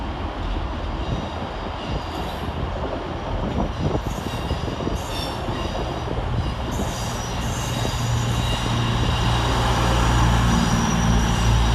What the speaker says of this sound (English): Arriving next into the station will be 221129, working the 1411 cross-country service from Manchester Piccadilly through to